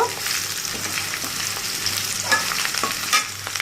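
Onion and garlic fry in oil until reddish while a dried fish and gourd leaf dish is prepared, giving a loud, dense, steady sizzle close by with faint stirring scrapes and no talking.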